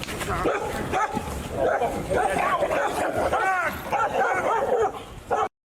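Dog barking and yipping at a man during a police clearing of a Toronto homeless encampment, sharp repeated barks close by, mixed with agitated overlapping voices and street noise.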